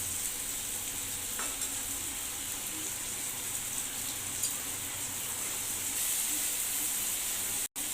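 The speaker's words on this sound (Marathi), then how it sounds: "यानंतर अद्रक आणि लसूण परतवून घेऊया यानंतर गरम मसाले परतवून घेऊया" Ginger, garlic and garam masala sauté in hot oil for an egg masala curry, giving a steady, soft sizzle and hiss that runs evenly throughout with no talking, then cuts off abruptly at the very end.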